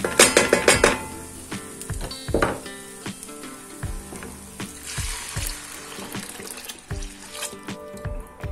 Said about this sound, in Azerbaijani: Yaxşı soğan qovurdum.